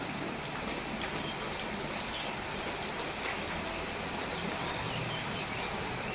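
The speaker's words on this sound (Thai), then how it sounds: "อันนี้ฝนก็เริ่มตกมาละ" Steady rain falls evenly as a dense hiss of drops, with one faint tap midway and no voices.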